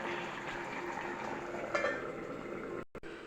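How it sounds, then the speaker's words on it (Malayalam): A pot of liquid boiling on the stove while fish cooks in a Kerala kitchen, a steady bubbling hiss with a faint clink partway through and a brief handling bump near the end. "തിളയ്ക്കുന്നുണ്ട്"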